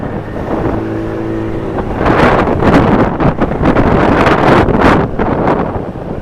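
Loud, steady wind roar buffeting the microphone while riding a Rusi Flex motorcycle, rising and gusting over a low engine drone, with no one speaking.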